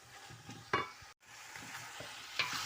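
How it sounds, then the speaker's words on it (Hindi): Onions sauté quietly in a pan for chicken korma pilaf, a soft steady sizzle broken by a few sharp scraping stir strokes, with no talking. "ये अभी मैं प्याज थोड़ा सा सौते कर लूँ"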